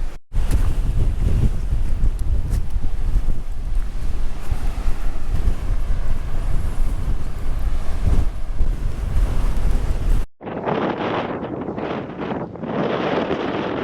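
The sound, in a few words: wind blowing on the coast at Portland Bill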